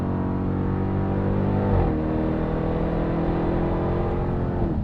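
2021 Dodge Durango SRT Hellcat accelerating on a race track, heard from inside: a loud, steady engine drone climbing in pitch, with a brief upshift dip partway through before the rising pull resumes, no talking.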